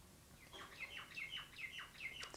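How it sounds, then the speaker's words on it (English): Small birds chirp and tweet in a faint, distant series of quick repeated calls over a steady background hiss, with no voices. "Birds."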